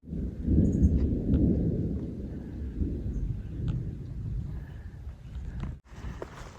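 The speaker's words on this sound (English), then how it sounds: "I've heard rumbles of thunder again." Low, rolling thunder rumbles over a high mountain trail near Relay Peak on the Tahoe Rim Trail, around 10,338 feet. It sounds distant and sustained, with light wind buffeting the microphone and no talking.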